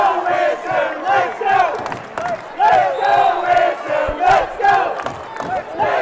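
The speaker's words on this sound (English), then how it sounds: "The Wisdom crowd into it." Wisdom fans chanting and cheering in a high school gym during a tight girls basketball regional final, rhythmic rising-and-falling crowd shouts, loud and close with distinct group chant cycles.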